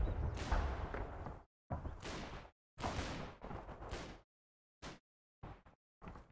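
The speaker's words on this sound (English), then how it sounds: "there's gunfire and all sorts over this direction." Gunfire rattles in Combat Mission: Battle for Normandy, a few longer bursts followed by shorter, sparser shots separated by silent gaps, with no voices.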